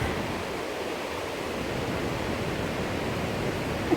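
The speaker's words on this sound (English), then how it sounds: "Waterfall." Waterfall heard from a distance as a steady, soft, broadband rush of falling water, continuous and unchanging throughout.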